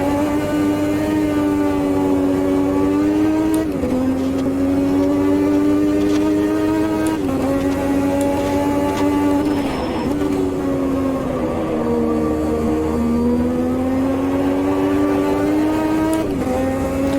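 A 1985 Formula 1 car engine in the Automobilista 2 racing game screams loud and close, rising through the revs in long pulls with several sharp drops at gear changes and lifts, without talk.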